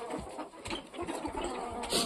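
Crested hens cluck softly in short, overlapping bursts, nearby in a noisy coop setting with no talking.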